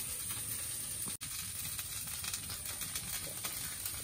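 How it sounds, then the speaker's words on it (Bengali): Dried red chillies fry in a pan with a steady, close, broadband sizzle and soft crackle throughout, briefly cut off by a momentary drop near the start. "এই সাইডে শুকনো লঙ্কা ভেজে নিচ্ছি"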